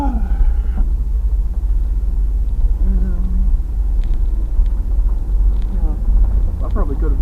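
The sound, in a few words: car driving on road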